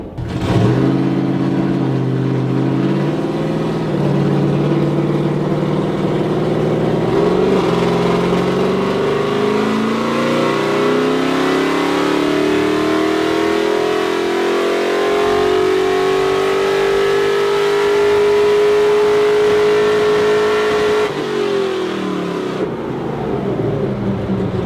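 A 572ci big block Chevy engine in a K5 runs on a dyno, roaring loud and continuous as its pitch climbs steadily through a long pull, then falls away at the end.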